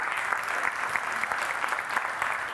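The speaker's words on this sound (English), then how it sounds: "Give them a big round of applause." Audience applause at a civic conference in Washington, a continuous bright patter of many hands clapping at moderate distance, filling the short moment without speech.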